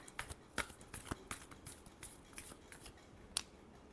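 Tarot cards being shuffled in the hands as a quick series of soft, crisp flicks and riffles, close and quiet, repeating irregularly with no talking.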